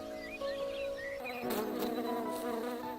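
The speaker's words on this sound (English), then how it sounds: "Oh, Buzz. Even your sting is strong. If a bee stings, it hurts people" Buzzing of a bee or similar insect, steady and fairly close, with the whining drone wavering in pitch and swelling louder midway through, and no speech.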